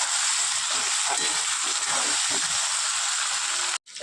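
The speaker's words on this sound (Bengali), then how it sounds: "এবার আলু পেঁয়াজটা খুব ভালো করে ভেজে নেব" Potatoes and onions frying in a pan for a chela fish curry, a steady close broadband sizzle and hiss that holds evenly before cutting out abruptly near the end.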